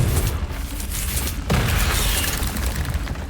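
Confringo spell explosion in Hogwarts Legacy, a sharp shattering burst midway through continuous loud crackling combat noise, with no talking.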